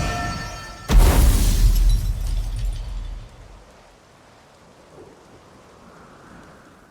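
A sharp thunderclap breaks over a rainstorm at Kaer Morhen in The Witcher 3, rumbling loudly for a couple of seconds before fading into soft, steady rainfall.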